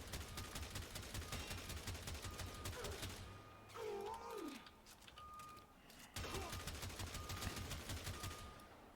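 Tiberon Prime rifle firing in the Warframe video game, rapid faint repeated gunshots in quick bursts with a short lull and an electronic warble in between, resuming afterward.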